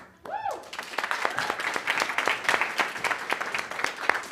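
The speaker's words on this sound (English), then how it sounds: "please join me in a round of applause as we introduce Zaire Garcia." Audience applause at a tech summit, a room of attendees clapping steadily and fairly close, with distinct individual claps standing out from the dense patter after a short vocal swoop at the start.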